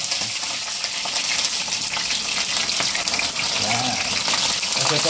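Sea tilapia frying in hot oil, a steady, dense sizzle with bubbling and crackle running loud and close throughout, with brief stirring or movement sounds mixed in.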